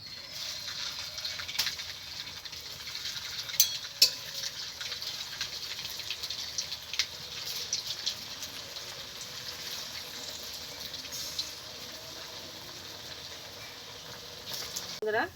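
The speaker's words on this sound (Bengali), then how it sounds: "এবার এক এক করে আমি জিলিপিগুলো ভেজে নেবো" Steady sizzling and bubbling of jalebi batter frying in hot oil, a continuous crackling hiss with occasional louder pops, close and moderately loud.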